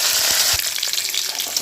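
Curry leaves crackle and sizzle loudly in hot oil, with a dense burst at first that settles into a steady frying hiss, heard close and alone with no voices.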